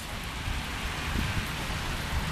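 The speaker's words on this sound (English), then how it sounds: "Look at this hail. Can you hear it?" Steady dense pattering of hail hitting surfaces, a constant hiss of many tiny impacts with no voices.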